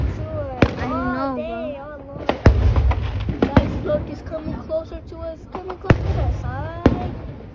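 Fourth of July fireworks burst outdoors in a series of sharp booms and cracks at irregular intervals, some nearer and louder, while people talk and exclaim between the explosions.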